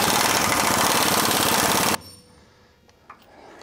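A power tool removes a 17 mm bolt on a Toyota Tundra, a loud, dense, rattling burst running about two seconds before cutting off abruptly into quiet, with a few faint clicks after.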